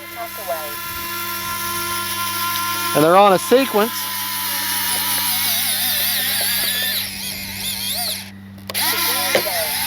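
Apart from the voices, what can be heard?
RC plane retractable landing gear cycling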